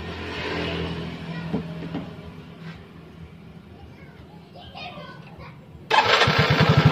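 A Yamaha Mio scooter with a faulty idle speed control valve that has been patched and plugged is hard to start. A low engine-like rumble runs under voices, then the engine fires loudly and idles steadily for the final second.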